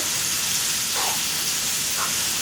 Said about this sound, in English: So we're going to fry half of our onion here.